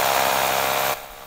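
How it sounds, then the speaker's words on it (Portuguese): An electric drill runs at a loud, steady high whine, then cuts off abruptly just before the end, leaving quieter background noise. "O som de uma simples furadeira passa dos 80 decibéis."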